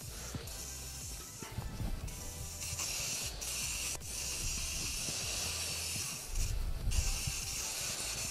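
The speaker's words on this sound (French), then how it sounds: "j'ai passé un petit coup avec une bombe veloutage de la couleur de votre choix" Red velvet spray can misting a frozen entremets dessert on a rack, a steady close hiss that swells and pauses across several passes, with no talking.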